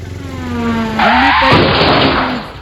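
A car is driven close by, its engine note rising and shifting with a sharp burst of broadband noise partway through, loud and alone without speech.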